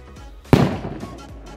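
A homemade flash powder firework salute goes off in one sharp, loud bang, followed by a brief rumbling decay.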